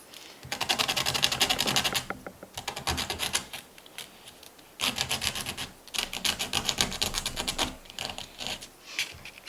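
Sandpaper rubs back and forth along the rough edges of a thin wooden dowel in quick, close, raspy bursts, pausing briefly between strokes.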